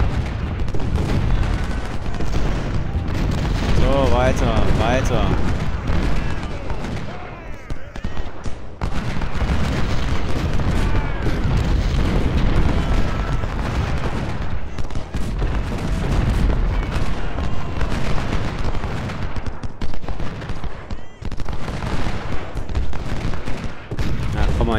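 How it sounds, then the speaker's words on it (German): Ironclad warships firing cannons in the strategy game Ultimate General: Civil War, a steady barrage of booming shots and rumbling fire running throughout, with someone talking over it. "Panzerschiffe, hey, sie beginnen zu feuern und treffen nicht"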